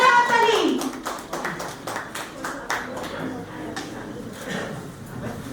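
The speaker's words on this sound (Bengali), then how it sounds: "জোরে হাততালি।" Audience applause at a poetry book launch in a memorial hall, starting with a burst of clapping that continues unevenly, with voices talking over it.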